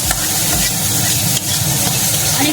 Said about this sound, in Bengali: কাঁচা লঙ্কা রসুনটা একটু ভালো করে আমি ভাজবো